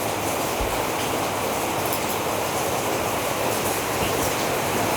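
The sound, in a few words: Honda motorcycle engine running with engine flush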